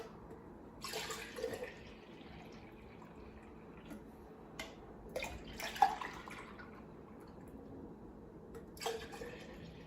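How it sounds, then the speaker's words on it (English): Kombucha poured back and forth between glass jars to mix it, giving a few separate splashing, trickling bursts spread out over a low, steady background hiss. "I forgot to mix this first one, so I have to pour it back and forth a couple times to get it really mixed up here."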